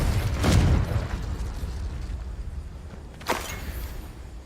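Confringo explosion spell in the game Hogwarts Legacy: a deep booming blast early on, then rumbling ambience and a second sharper burst near the end.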